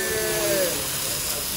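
Fire flaring up on a teppanyaki grill at Mizumi Japanese Restaurant in the Wynn casino, Las Vegas, gives a loud steady hiss that carries through the whole short moment.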